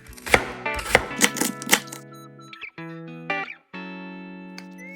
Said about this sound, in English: So first, you want to chop the onion. Cut them into thin slices.